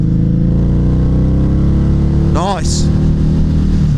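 A Harley-Davidson V-Rod motorcycle engine pulls hard under acceleration, a loud, close, continuous drone with a quick gear-change dip midway; a rider speaks briefly over it.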